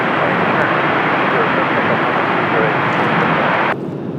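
A jet airliner departs runway 30 at Washington Dulles airport on a cloudy day, its loud, broad engine roar steady and close before dropping off abruptly near the end.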